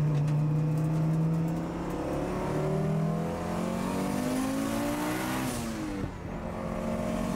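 Audi S1 EVO 2 rally car engine revving loudly and continuously nearby, its harsh tone rising and falling through steady throttle blips with no voices over it.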